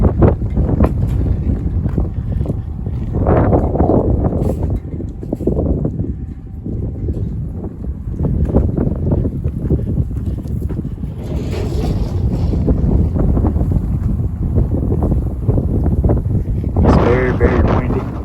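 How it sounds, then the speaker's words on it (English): Strong wind buffeting the microphone outdoors on a snowy day in Kingsport, Tennessee, a continuous roaring rush that swells and eases, with a person talking over it at times. "Very windy."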